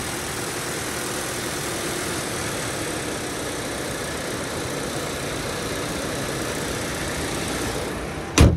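A 2018 Subaru Impreza AWD wagon idles with the hood open, a smooth, even engine hum close by and unchanging throughout, ending with a brief thump.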